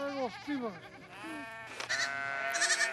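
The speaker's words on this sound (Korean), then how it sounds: "양과 염소들이 다투어 풀을 찾아갑니다" Sheep and goats bleating as livestock are let out onto a dry Mongolian grassland pasture to graze, several overlapping wavering calls, fairly close and loud, with a voice speaking alongside.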